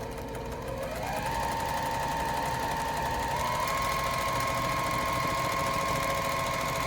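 A sewing machine runs seams on a pillow, giving a loud, continuous mechanical whirr and rapid needle clatter that starts up and holds steady close by with no talking.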